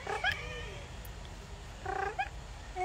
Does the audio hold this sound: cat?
yes